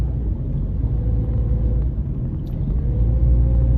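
Heavy road traffic rumbles steadily, a dense low drone of passing cars and engines that stays loud and continuous with no clear individual vehicles standing out.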